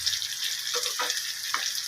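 Cut potatoes frying in a pan of hot oil for a paneer biryani-pulao, a soft, continuous sizzle with a few brief stirring scrapes, quiet and close, with no voices.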